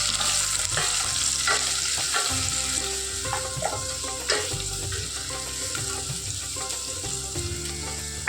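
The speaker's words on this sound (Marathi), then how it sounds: "कांदा छान हलका गुलाबी रंग येईपर्यंत तेलात परतून घ्यायचा." Finely chopped onion and green chillies sauté in hot oil, making a loud, steady sizzle with repeated clinks and scrapes of a spoon stirring the pan.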